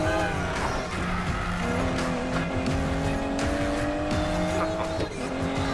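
An Aston Martin DB11 in Need for Speed Payback revving hard and squealing its tires through sustained skids, the engine note rising and falling over continuous screeching rubber.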